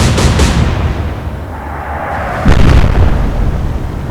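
Naval guns firing in a World War II sea battle in Atlantic Fleet, heard as a loud booming opening, a lull, then a second heavy blast around mid-clip with rumbling tail.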